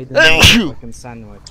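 A sharp, loud sneeze bursts out amid nearby conversation, with people talking before and after it.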